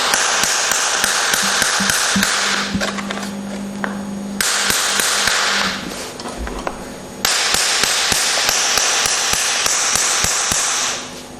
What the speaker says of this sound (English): If you just tap, tap, tap, like this, get it in and hit it positively